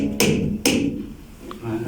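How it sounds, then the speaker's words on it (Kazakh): A hammer drives a nail into wood for a birdhouse build, two sharp close knocks about half a second apart, with voices around them. "Бұл шеге өзің қаға қойшы ма?"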